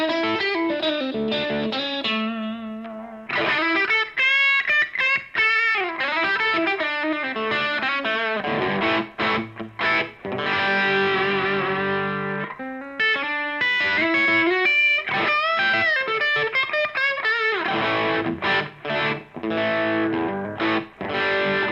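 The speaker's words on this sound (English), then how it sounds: "The drive you're hearing is the Red 7 Alchemy overdrive that we talked about last week as well." An electric guitar plays through a Red 7 Alchemy overdrive pedal, with gritty, moderately driven chords and single-note phrases. The playing runs in uneven bursts broken by short pauses, close and loud with no talking.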